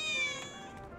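A single cat meows in the video game Final Fantasy VII Remake, in the Sector 7 slums. The short, tonal, fairly close call rises and falls in pitch over a faint background hum.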